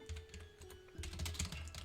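Computer keyboard typing while playing the puzzle game Lingo: quiet, close key clicks that start sparse and get quicker and denser after about a second, over a faint steady hum, with no talk.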